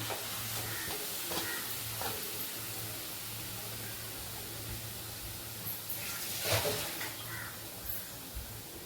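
Marinated chicken dropped into a hot kadai on a low flame, giving a steady sizzle and hiss with scattered stirring scrapes and a brief louder burst of frying near the end.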